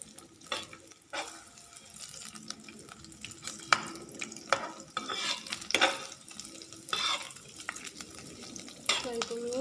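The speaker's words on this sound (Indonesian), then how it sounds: "kemudian kita tumis bawang bombaynya" Onions sauté in a pan for a tempeh and mushroom steak dish: a soft sizzle runs under repeated scraping and clanking of a spatula stirring against the pan, with the bursts of stirring coming irregularly throughout.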